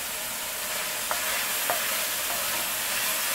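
Chopped fresh garlic sautés in a hot pan, a continuous close sizzle with a few soft taps from the stirring utensil and no talking.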